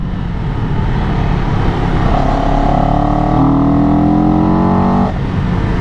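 A CFMOTO 700 CL-X motorcycle accelerates hard on an open road, its engine note rising steadily in pitch for a few seconds under heavy wind rush, then dropping off as the throttle closes.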